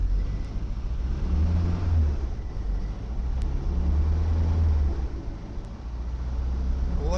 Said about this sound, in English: Let me rev it.